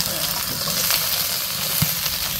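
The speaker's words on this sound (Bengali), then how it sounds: "তেলটা দিয়ে নিছে ভেন্ডি ভাজি করার জন্য।" Okra sizzling steadily in hot oil in a pan, a continuous close frying hiss with a few faint clinks, no voices.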